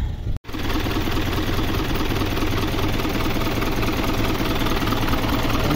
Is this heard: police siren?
no